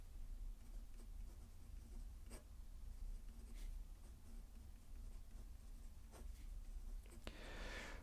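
Chalk or marker writing on a board, steady scratchy strokes with a few sharp taps, a soft hiss rising near the end, over a low room hum; no talking.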